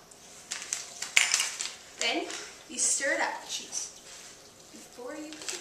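Spoon stirring macaroni and cheese with butter and milk in a metal pot, with irregular scraping clinks and clatters close by, while a voice talks over them.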